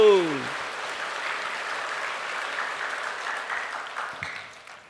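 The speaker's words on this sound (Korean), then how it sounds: "우리를 써주시는 하나님 아버지께 감사하다고 박수 한번 해요" A church congregation at a Korean worship service bursts into sustained clapping after a brief voice at the start; the applause stays even and moderately loud before fading toward the end.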